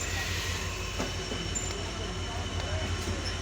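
Down Nilsagar Express passenger train running at night, heard from on board: a loud, steady rumble of wheels and carriages with faint metallic clicks and a thin squeal, continuous throughout.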